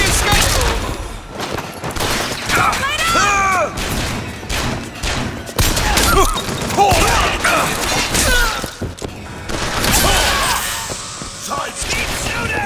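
Rapid gunfire and heavy weapon blasts in the video game BioShock Infinite, loud, dense and continuous, with crashes, metallic impacts and shouted voices over the shooting.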